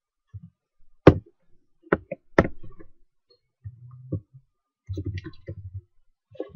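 A few scattered clicks and taps on a computer keyboard during a lesson on building a placement application, sparse and moderately close, with quiet gaps between short bursts of keystrokes.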